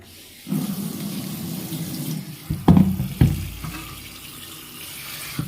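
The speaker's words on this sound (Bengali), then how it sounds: "এটাকে এখন আমাকে ঠান্ডা জলে ধুয়ে নিতে হবে" Cold tap water runs steadily into a sink while soya chunks are washed, a close, continuous rushing stream with a couple of brief splashy surges midway.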